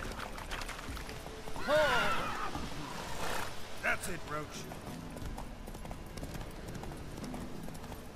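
Horse hooves clip-clopping at a gallop in the video game The Witcher 3: Wild Hunt, a steady rhythm with brief whinny-like tones, under someone talking throughout.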